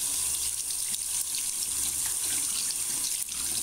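Tap water runs steadily into a sink while makeup brushes are washed, a close, continuous splashing hiss with no talking.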